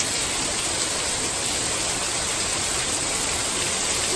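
Rainwater from a cloudburst overflows a garden gutter, a loud, dense, continuous hiss and splatter of pouring water and heavy rain that holds steady without a break.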